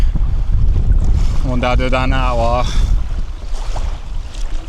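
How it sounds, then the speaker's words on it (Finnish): Rising wind buffets the microphone on an archipelago shore during solo camping, a heavy low rumble that continues throughout, while one voice speaks briefly in the middle. "Tuntuu, että toi tuuli lähti nyt muutenkin kiihtymään"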